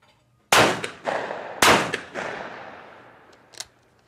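Two sharp blasts from a CZ Sharptail 20 gauge side-by-side shotgun firing Federal Top Gun 7/8 ounce loads at clay targets outdoors, each crack followed by a rolling echo that fades, with a faint distant pop afterward.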